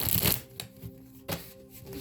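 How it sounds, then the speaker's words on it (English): A deck of tarot cards is shuffled close up, a quick riffling burst followed by a few softer slides and taps of the cards. "I'm going to go in and shuffle again."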